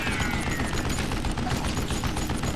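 Gunfire in the video game Call of Juarez: a dense, continuous volley of rapid shots and booms filling the whole stretch at steady loudness, with no talk over it.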